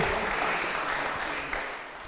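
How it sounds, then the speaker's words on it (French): An audience applauds a panel speaker at an ecology colloquium round table, producing a brief, even wash of clapping that holds steady and fades slightly toward the end. "On peut vous applaudir aussi, Monsieur Lambert"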